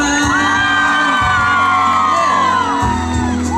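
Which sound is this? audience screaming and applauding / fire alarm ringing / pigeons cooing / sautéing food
audience screaming and applauding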